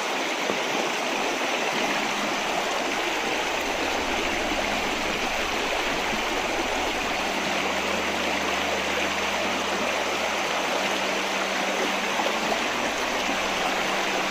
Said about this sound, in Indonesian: Oke, kita nyebrang sungai lagi, Nawak.